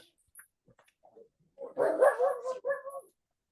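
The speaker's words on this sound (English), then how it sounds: "Pardon my dog barking." A dog barks in a quick burst of several loud, close barks mixed with whimpering yips, after a few faint sounds in an otherwise quiet room.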